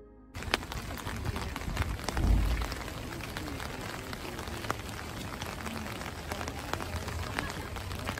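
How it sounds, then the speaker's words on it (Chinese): Heavy rain falls steadily at a national park in Maine, a dense constant patter on surfaces with scattered sharper drops, broken briefly by a low thump; faint bird calls may sit in the background. "有时候呢雨下得很大"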